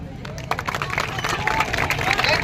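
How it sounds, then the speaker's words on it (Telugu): Students at a road safety rally clap loosely together outdoors, a moderate scattered patter of applause mixed with crowd murmur and voices. "సరే, క్లాప్స్."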